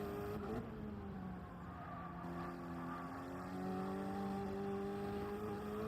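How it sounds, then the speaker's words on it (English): A car engine in a racing video game drones with a steady tonal hum that climbs and settles as revs rise, fairly quiet and continuous with no talk over it. "Car sounds so good."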